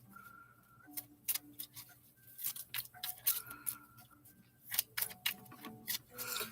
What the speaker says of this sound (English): Shuffle up some magic cards that we should be focusing on today